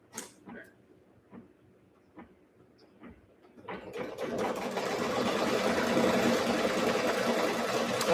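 Domestic sewing machine stitching a quilting seam, a few faint isolated taps and clicks first, then a steady continuous whirring run that builds and holds to the end, no voices.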